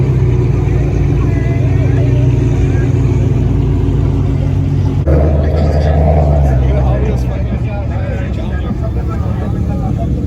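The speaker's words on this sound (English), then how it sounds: "Rev it." A car revving at a car meet, with a loud, dense engine roar that changes character halfway through, under crowd chatter and voices.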